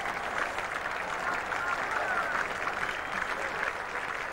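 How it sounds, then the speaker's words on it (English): Steady applause rolls around a cricket ground at Trent Bridge as the crowd marks Australia's 300 during an England v Australia Test match, a broad, continuous wash of clapping held at an even level throughout. "Applause right around the ground now for the 300 coming up."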